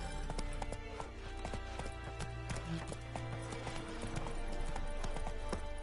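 Roach, Geralt's horse in The Witcher 3, gallops with rapid, evenly repeated hoof clops over a low steady game ambience, close and continuous throughout, with no speech.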